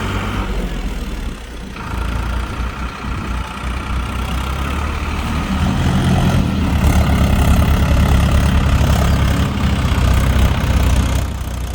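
A tractor engine idles steadily on a farm during a rainy potato harvest, a loud, continuous low rumble with slight swells that runs throughout, with no voices over it.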